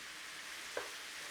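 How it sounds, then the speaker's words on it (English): Quiet, steady sizzling of mushrooms stir frying in a pan with a soft scrape of stirring partway through, no voices. "stir frying it round"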